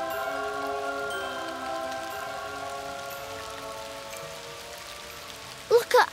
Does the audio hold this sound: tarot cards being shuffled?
no